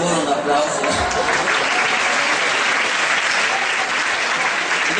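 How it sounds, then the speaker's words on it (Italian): Sustained, dense applause from a live concert audience in Virle, Rezzato, filling the whole stretch at steady loudness with a thick wash of clapping and no break. "quindi ancora un applauso"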